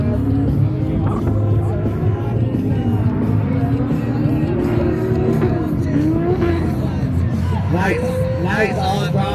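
A drift car's engine at a Drift Indy competition run, roaring steadily with rising and falling revs as the driver moves through a throttle transition, loud and close with crowd and commentary noise beneath.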